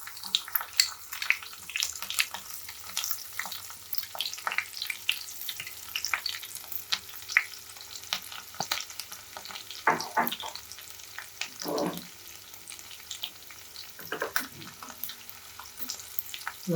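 Finely chopped chilies and garlic sizzle in hot tempering oil for Kathiyawadi Girnari khichdi, a soft, steady crackle with scattered spits and pops, plus a few brief clinks and knocks nearby.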